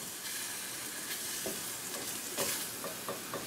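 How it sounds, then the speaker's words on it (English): Blonde roux for gravy stirred in a Dutch oven, a steady close sizzle with a few soft scraping strokes of the spoon through it. "making a little roux here, and this will make the gravy nice and thick. So I'm going to stir this around for a little while."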